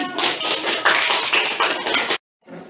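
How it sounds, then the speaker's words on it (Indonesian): Students in a classroom clap together at the close of a lesson, a dense, lively burst of applause that runs for about two seconds, cuts off sharply, and is followed by a faint trailing patter. "Kasih tepuk tangannya"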